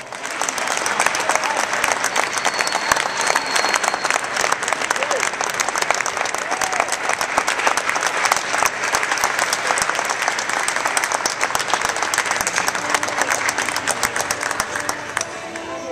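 A breakfast awards audience at Temple Athletics applauds after a list of names, sustained, dense clapping from many hands filling the room steadily before tapering slightly at the end.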